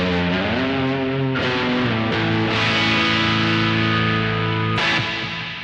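Electric guitar played through an amp-less pedalboard with its normal tone and no added hall reverb: sustained chords and picked notes ringing with mild drive, a few fresh strums near the start and another just before the end, then fading out.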